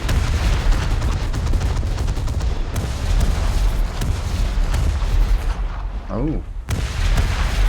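Naval 4.5-inch guns fire in a warship battle game involving HMS Renown, producing dense, booming salvos and rolling blasts that fade near the end. A brief spoken exclamation rises over the gunfire.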